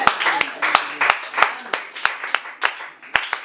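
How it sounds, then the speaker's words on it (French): Congregation clapping hands in steady rhythmic praise during a French-language Christian worship service, sharp claps roughly every third of a second, with a faint voice underneath. "Acclame très fort les Seigneurs."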